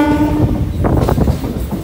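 A MEMU passenger train at Bhimavaram junction gives a long horn-like tonal sound at the start, followed by rumbling rail noise and clatter close by, with no talk.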